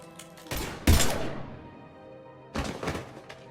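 Gunfire in a Mass Effect 3 firefight, with a heavy burst of shots followed by a decaying echo and then a second, shorter volley, with no talking.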